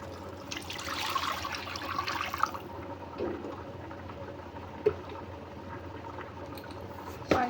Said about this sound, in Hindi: मैं इसमें पानी ऐड कर दूँगी